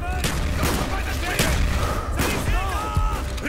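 Sustained machine-gun and battle fire in the shooter Call of Duty: Black Ops, a continuous roar of shots and blasts with voices shouting over the combat.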